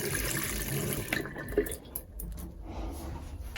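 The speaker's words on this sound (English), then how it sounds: "first thing we're gonna do when we get home is wash our hands." Tap water runs steadily into a sink, the flow breaking up with splashes and drips as hands are washed under it.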